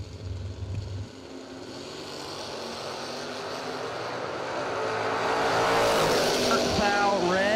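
Bracket drag race cars, a Chevrolet Monza and a Monte Carlo, launch and race down the strip, engine roar swelling steadily from a low rumble to a loud distant scream, with an announcer talking over it.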